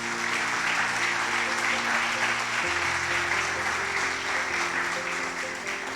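A church congregation claps loudly at a service, a dense sustained wash of applause lasting the whole stretch, with a low organ or keyboard chord holding beneath it.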